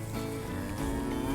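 A farm calf moos in a long, close, steady bellow that slides slightly upward toward the end, with a soft rainy hiss underneath and no talk.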